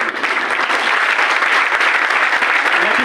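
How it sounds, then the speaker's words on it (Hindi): An audience at an indoor company seminar applauds in a dense, steady wash of clapping, loud and close throughout with no break. "ताली आप कम बजा रहे क्योंकि ये दूसरों की बात चल रही है"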